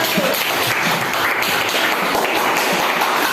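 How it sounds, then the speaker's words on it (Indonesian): Classroom of students clapping for a presenting group, a dense burst of hand claps that holds steady and close for a few seconds, with no talk over it. "silakan tepuk tangan untuk kelompok 1."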